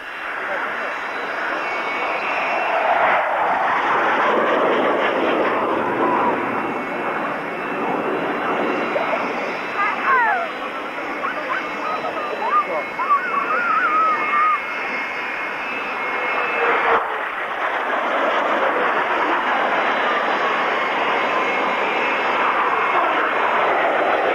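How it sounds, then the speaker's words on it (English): Hawker Hunter jets fly past at a classic jets and fighter airshow at Cranfield, a loud, steady roar that swells and fades continuously over the whole stretch, with a commentator talking over it. "Hunters running in now, they'll be braking right to land."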